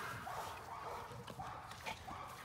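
A game-bred dog being started on rag work whimpers and lets out short yips in quick bursts. The sounds are close but faint, with no talk.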